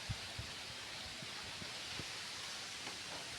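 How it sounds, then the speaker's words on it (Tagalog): Broad, steady rushing of strong wind ahead of an approaching typhoon across the microphone, with faint low thumps and buffeting scattered throughout. "Oh malakas ang hangin."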